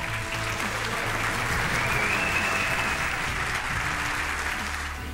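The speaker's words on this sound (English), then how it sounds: "give a great round of applause to not only the champ, but the greatest person in the world, Muhammad Ali." A large audience gives a sustained, loud round of applause for the boxing champion Muhammad Ali at a sports event, a dense even roar of clapping filling the whole stretch without pause.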